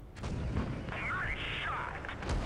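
Heavy tank cannon shots exchanged in World of Tanks Blitz, a deep booming report followed by a sustained rumbling, mechanical whine, with talk over it.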